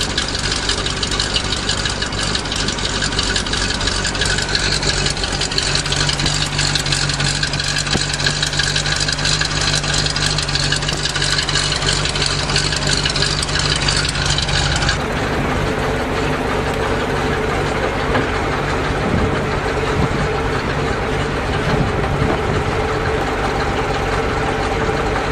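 A 427 dump truck engine idles loud and close with a steady rough rumble and a knocking pulse. Its tone shifts partway through.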